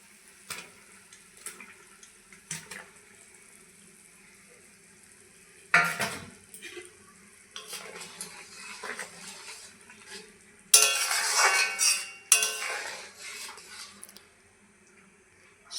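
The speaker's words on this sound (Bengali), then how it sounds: "এখন আমি ভেজে রাখা মাছগুলো দিয়ে দিচ্ছি।" Fried magur catfish pieces added to a pot of cucumber curry and stirred, with scattered clinks and scrapes of a metal spoon against the pot, soft bubbling and sizzling, and louder splashing bursts toward the end.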